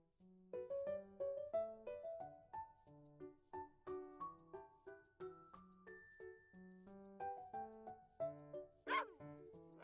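A mischievous terrier in the video game Love and Deepspace lets out a quick, rhythmic string of high yips and whimpers, each one short and tonal, close and clear, with a sharper cry near the end.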